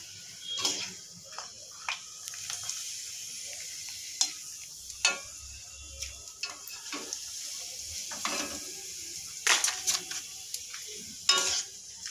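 Papad frying in hot oil gives a soft, steady sizzle, punctuated by scattered crackles and light clinks of a utensil against the pan.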